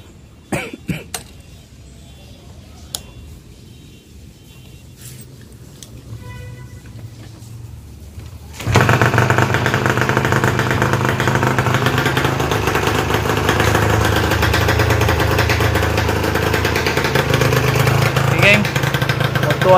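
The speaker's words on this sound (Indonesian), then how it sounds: "So jom kita start dulu engine ni geng." A Yamaha motorcycle engine being restored in a project build kicks into life and settles into a loud, steady idle. The start comes after a stretch of quiet workshop noise, and a cough is heard early on.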